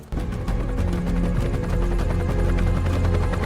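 A helicopter in flight during a film scene gives a steady, droning rotor and engine hum with a low throb that runs unbroken and fairly loud throughout, with no talking.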